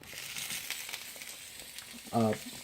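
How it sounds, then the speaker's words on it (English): Chicken pan fries in a hot pan with a little oil for chicken adobo, a faint steady sizzle with occasional stirring clicks and a brief tonal squeak near the end. "We're going to take this chicken and just pan fry it a little bit"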